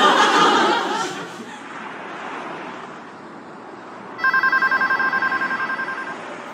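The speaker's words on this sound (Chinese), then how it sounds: "电话转接过来了。" A telephone rings with a rapid, trilling electronic tone for about two seconds, after a burst of laughter and a quieter stretch of murmuring.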